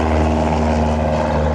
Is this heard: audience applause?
no